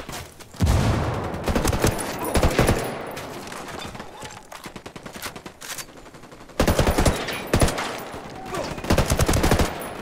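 Rapid automatic gunfire and bursts in the tactical shooter Ghost Recon Wildlands, loud volleys with a pause in the middle before heavy firing resumes, no speech.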